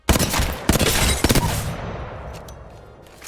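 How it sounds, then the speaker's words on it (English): Rapid bursts of gunfire from a video game weapon, loud and close: two quick volleys of shots followed by a trailing echo and fainter scattered pops. "I use burst shots up close, single fires from a distance"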